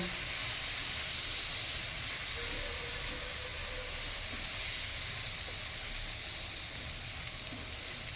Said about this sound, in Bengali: দু 1 মিনিট একটু নাড়িয়ে ভেজে নেব